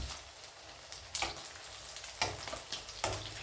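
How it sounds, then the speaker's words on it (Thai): Egg-coated riceberry rice balls frying in oil, a soft, steady crackling sizzle broken by a few louder spits and bursts spaced about a second apart, with no talking. "เราจะชุบตรงนี้ทอด"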